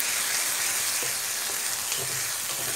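Turmeric, coriander, cumin and garam masala sautéing in oil in a pan, a steady soft sizzle with faint scraping stirs, continuous and close with no voices.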